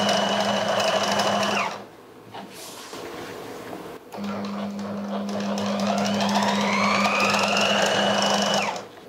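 An electric sewing machine stitches a tulip salwar, with a steady mechanical whir that runs for a couple of seconds, pauses, then resumes for a longer stretch at close range.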